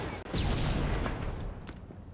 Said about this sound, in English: Now it's shooting.